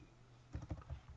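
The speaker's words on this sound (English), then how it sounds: "if you know the name of the font, you can start typing" Keys tap on a computer keyboard while typing a font name in CorelDraw, a quick run of soft, close clicks lasting under a second, quiet and alone.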